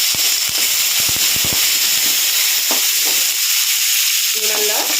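Chopped green chillies and curry leaves crackling in hot oil with dal for coconut rice: a loud, dense sizzle and spluttering pops right up close, alone without talk.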